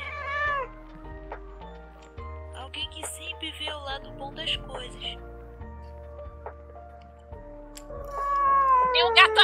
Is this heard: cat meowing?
yes